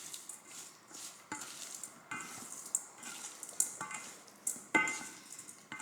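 A spoon works through a raw bluefin tuna poke mixture in a bowl, giving soft wet squelching stirs with occasional light clinks against the bowl, close and quiet, in an irregular rhythm.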